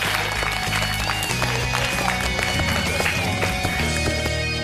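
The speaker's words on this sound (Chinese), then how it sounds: "我们也把掌声给到小明哥，好不好？" An audience at a televised workplace reality-show gathering applauds, a dense, loud wash of clapping mixed with background music and crowd noise throughout.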